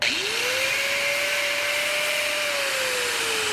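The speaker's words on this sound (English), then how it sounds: "Let's get to grinding." An angle grinder works a crack in the cast iron block of a Deere 4.219 diesel engine, spinning up into a loud, steady high whine that holds unbroken for several seconds.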